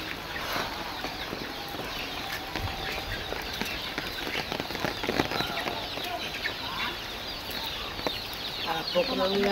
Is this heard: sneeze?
no